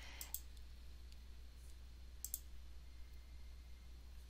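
Computer mouse clicks, faint and close: a quick pair near the start, a soft single one mid-way, and another quick double click later, over a quiet hum.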